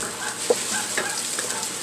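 Chopped onion and garlic sauté in a pan for a Filipino noodle soup, a steady close sizzle with a few soft stirring scrapes and clicks throughout.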